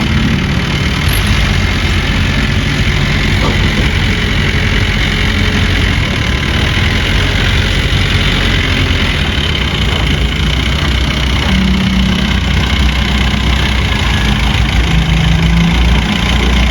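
A wheel loader working on a Laos farm, lifting and leveling soil around newly planted coconut palms: a loud, continuous diesel engine drone with a heavy low rumble, steady throughout and close by.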